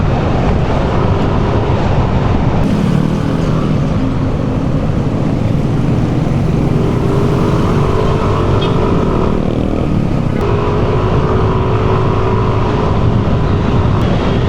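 A 2026 Yamaha Lexi 155 scooter with a 155cc four-valve VVA engine, ridden with steady loud engine drone and road and wind rumble throughout, with a faint shift in pitch partway through and no voices.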